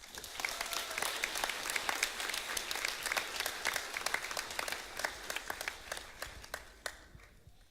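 A school audience at a senior awards night applauds the graduating class of 2022, a dense, steady clapping that fills the room and thins into scattered louder claps near the end, with no talk over it.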